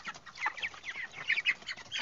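Young broiler chickens, three weeks old, cluck and peep busily at close range while being lightly wetted on a hot day, with a dense chatter of short calls and no talking.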